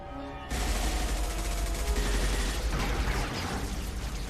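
Sustained gunfire in Mass Effect 3, a dense fusillade of rapid shots erupting suddenly after a short quiet moment and continuing steadily, loud and close.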